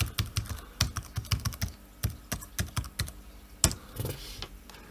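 Rapid, uneven clatter of keys being typed on the keyboard of an IBM ThinkPad 240 laptop, close and clear, with sharp individual clicks in quick bursts and no talking.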